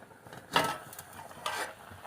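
A tempering of gunda (glue berry) vegetable cooks in a pan, a low steady sizzle broken by two scraping stirs of a spoon against the pan, close and moderately loud, no voices.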